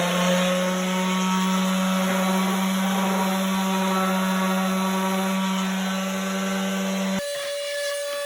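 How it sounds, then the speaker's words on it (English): A power sander works on cut wooden parts for a small treasure box, a loud, steady, tonal whine held close for several seconds before it abruptly drops in pitch and volume near the end. "and now I'm gonna sand."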